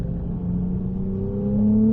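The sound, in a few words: Ferrari sports car accelerating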